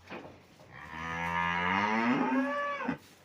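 A dairy cow on a farm at evening milking time lets out one long, loud, close moo that rises and falls over about two seconds, calling for her calf, with no talk over it.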